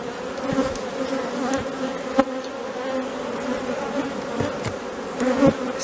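Honey bees buzz steadily around an open hive frame during a powdered sugar dusting for mite control, a continuous droning hum with occasional louder passes of individual bees close by.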